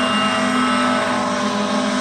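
CSX coal train diesel locomotive engine, heard at night in Terra Alta, West Virginia, drones steadily and loudly with a strong low harmonic hum, continuous and close, with no talk.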